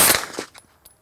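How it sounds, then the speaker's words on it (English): A single loud, sharp report from a supersonic round fired through a CGS MOD-9 suppressor, followed by a quickly decaying echo and a couple of faint trailing taps. "Here we go with the super."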